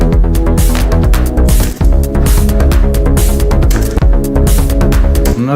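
Trance track built in Logic Pro X with an electronic clap sample dropped into a dense, loud mix of steady synth chords and driving bass, the sharp claps repeating on a regular beat throughout.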